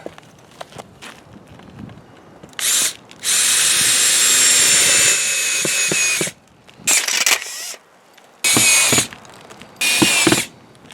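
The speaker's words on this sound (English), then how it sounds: "Okay, let's screw it in." Power drill driving screws to mount a Solatube skylight on a roof, several loud, close bursts of whirring with short pauses between them and faint handling noises.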